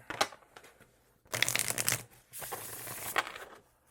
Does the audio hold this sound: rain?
no